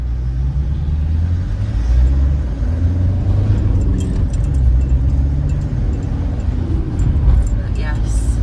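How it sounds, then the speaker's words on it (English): Road traffic rumbles past while riding to work, a continuous low engine and tyre drone from passing cars. A person talks over it throughout. "these cars pass because the obstruction's on my side"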